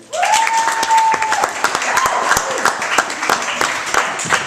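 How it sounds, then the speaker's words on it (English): A lecture-hall audience at a leadership talk breaks into steady applause, dense clapping filling the room throughout, with a brief whistle-like tone rising early on. "give a round of applause to Brittany Martinson for putting this all together"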